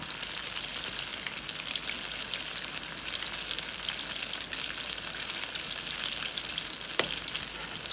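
Cauliflower pakoras, or fritters, fry in oil with a dense, continuous crackling hiss close by, with a single sharp tap near the end as one is flipped.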